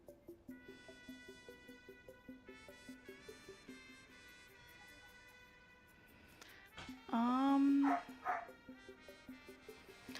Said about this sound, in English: I do apologize if you can hear my dog barking in the background